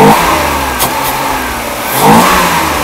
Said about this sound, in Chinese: 你看大哥这么快速的拉油门